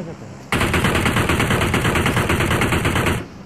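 Sustained automatic gunfire in the PUBG battle royale video game, a loud, dense rapid burst lasting about three seconds that starts abruptly and cuts off sharply.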